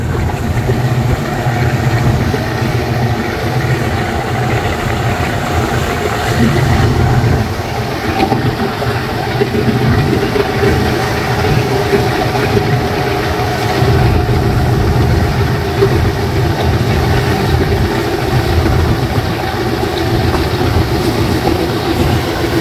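The Prince Awlad 10 passenger launch travels from Barisal to Dhaka at full speed, its engine producing a loud, continuous low rumble and throb for the whole clip, with water and hull noise blended in and no talk.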